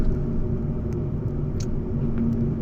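A Fiat Egea with a 1.4 engine driving on the road, heard as a steady, fairly loud low cabin rumble with faint engine hum and a few small clicks, no voices.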